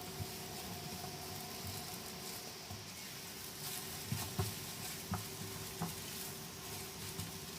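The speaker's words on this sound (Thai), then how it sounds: "ผัดให้เส้นพอสุกนะครับ" Glass noodles stir-fried in a hot pan, a steady soft sizzle with occasional light scraping taps of the spatula, close and fairly quiet, with no talking.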